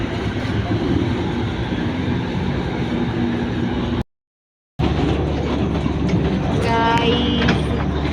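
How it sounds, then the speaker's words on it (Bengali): The Darjeeling toy train rolls along with a loud, steady rumble and rattle heard from on board, continuous apart from a brief cut, with a faint squeal near the end. "ও ফার্স্ট টাইম টয় ট্রেনে।"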